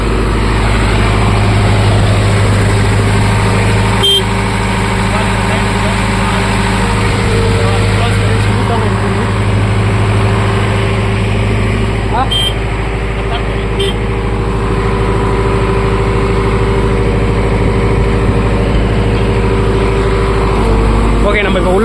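A 2024 Bull SD76 backhoe loader engine runs as a loud, steady diesel drone with a constant low hum throughout, and people talk over it.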